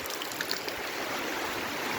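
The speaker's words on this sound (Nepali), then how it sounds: "पानी पनि टन्नै परिरहेको छ।" Heavy rain falls outdoors by a rural home, a dense, steady rushing hiss with no pauses and no voices.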